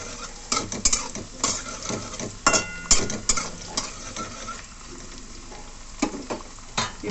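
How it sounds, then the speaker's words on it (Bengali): Potatoes fry in a pan until browned: a steady close sizzle runs throughout, broken by the frequent clatter of a utensil stirring against the pan, and no one speaks. "আলুগুলো আমি ভেজে নিতে হবে লাল করে।"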